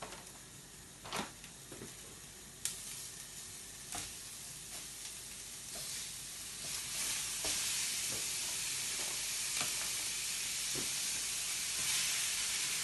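Minced meat sizzles in a pan with browned onions, a steady frying hiss that builds over time, broken by sharp scrapes and clinks as it is stirred, close and alone.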